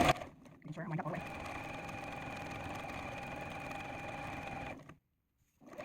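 A sewing machine runs a quarter-inch seam along the edge of a chevron table runner. It gives a steady, even whir for about four seconds, close by, with brief talk before it starts.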